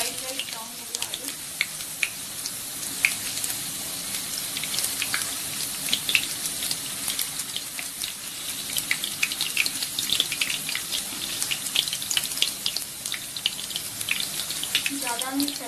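Potatoes browning in a pan with turmeric powder and salt, a soft steady sizzle with faint crackles running throughout at moderate level.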